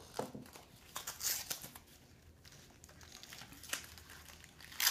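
Plastic toy packaging is unwrapped, giving soft, close crinkling and tearing bursts scattered across a quiet room.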